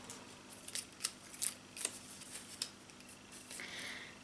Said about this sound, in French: déplions ces petits papiers